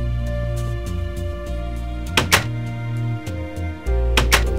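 A wooden door in Minecraft shuts with a couple of sharp knocking thunks, heard over a steady electronic hum and soft background clicks.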